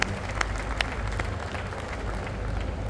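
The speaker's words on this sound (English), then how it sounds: "Let's give a round of applause to all our incoming leaders, friends." Steady, dense applause from a crowd at a Rotary International district conference inauguration, a continuous wash of clapping throughout.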